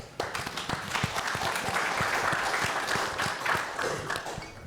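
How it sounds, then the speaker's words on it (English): Audience applause welcoming a panel on AI at a conference, a burst of many hands clapping steadily for a few seconds before fading. "let's have a round of applause,"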